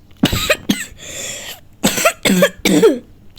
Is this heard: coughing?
yes